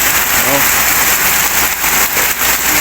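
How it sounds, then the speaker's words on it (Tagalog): Heavy rain pours down in a dense, steady hiss, loud and close, with a brief voice sound early on. "ito na yung ulan na hinahanap ninyo"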